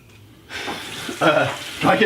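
Warm water runs from a bathroom tap in steady broadband bursts that swell and fade twice, close by, with people talking over it.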